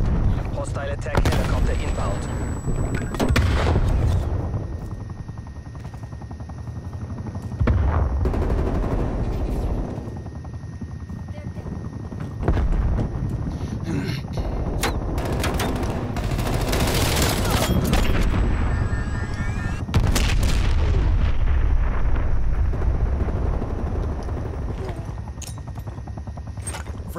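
Call of Duty: Black Ops Cold War match with an attack helicopter's deep rotor rumble under bursts of machine-gun fire and explosions, loud and continuous, with radio-style voices speaking over the combat.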